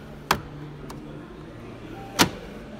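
A Grundig washing machine door in a megastore shuts twice with firm, solid thuds about two seconds apart, each a short sharp knock over a low hum of store background.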